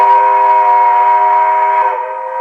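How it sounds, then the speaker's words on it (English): A G-scale model train sound system plays a steam whistle as one loud, steady, chord-like blast that holds for about two seconds and then drops slightly in pitch and volume at the end. "It's a beautiful whistle, and you can play that as long as you"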